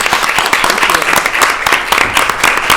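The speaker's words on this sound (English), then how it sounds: "Let's give them all a big round of applause." Close, loud applause from a film festival Q&A audience, brisk overlapping claps with uneven rhythm filling the room.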